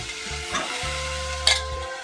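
Green peas added to a tempering in a pan over a low gas flame fry with a steady close sizzle, stirred with scraping strokes, no voices.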